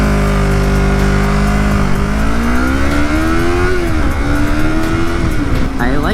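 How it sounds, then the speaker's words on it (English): An inline two-cylinder motorcycle engine pulls hard through the gears, loud and close with rising and falling revs and a brief dip between shifts, heavy wind rush underneath. "I like the sound of the engine"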